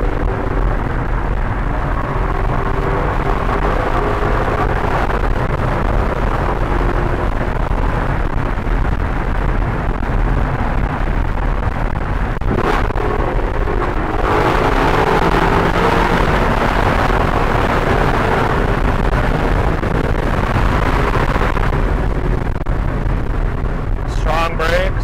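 A Lexus LC500 blasts its exhaust in a tunnel, a loud, sustained booming roar with echoing reverberation and sharp pops and crackles, continuous for the whole stretch.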